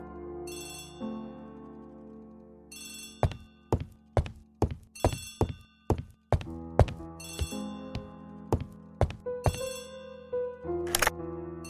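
Old telephone bell ringing in the Agatha Christie ABC Murders video game, several bright ringing bursts over a low music bed, mixed with a run of sharp thunks and clicks through the middle.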